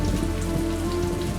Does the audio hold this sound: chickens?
no